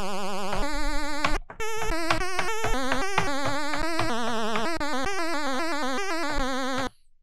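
An 8-bit square-wave synth patch with a fast 10 Hz sine vibrato plays a quick run of buzzy, wobbling notes. It is heard close and alone, with a brief gap, and stops abruptly.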